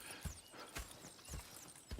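Rhythmic hoof clip-clops at an even trotting pace, close and clear, with a faint whinny in the background, from horses in the video game Red Dead Redemption 2.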